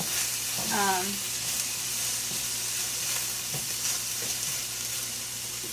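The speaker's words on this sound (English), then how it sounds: "So basically, you stir fry it so it's not like sticking to your walls or it's not burning." Okra stir-fries in a cast iron pan with a continuous soft sizzle and faint stirring scrapes, plus a brief whistling tone early on.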